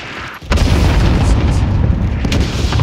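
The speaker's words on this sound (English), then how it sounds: "Cluster strike away" A cluster strike in Call of Duty: Modern Warfare sets off a loud, sustained barrage of overlapping deep booms after a brief quiet start, rumbling heavily through the rest of the moment.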